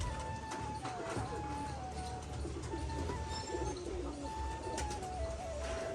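Pigeons cooing in a loft while a parent pigeon feeds its chick, soft repeated coos and faint chirps over steady low background hum.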